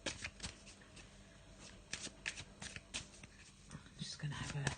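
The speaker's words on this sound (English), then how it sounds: "So I'm just going to give that a little shuffle." A Faulkner tarot deck in black and white is shuffled by hand in a run of crisp riffling bursts and soft slides, close and fairly quiet, while a voice talks over the cards.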